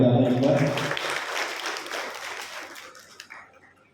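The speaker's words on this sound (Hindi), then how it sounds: "मैं चाहता हूँ मेरे टीचर्स के लिए आप जोरदार तालियां बजा दें एक बार" A voice speaks briefly, then a crowd breaks into applause that gradually fades away.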